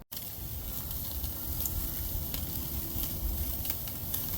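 Steaks and lamb chops sear over direct heat on a Weber kettle grill, giving a loud, continuous close-up sizzle with a low roar and scattered sharp pops.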